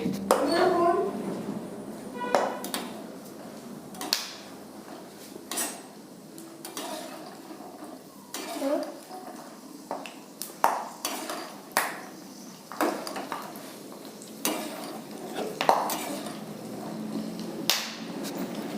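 Dry fruits roasting in a pan, stirred now and then for kamarkas and gond laddoos, give irregular metallic scrapes and clinks of a utensil against the pan, spread across the clip with no talking.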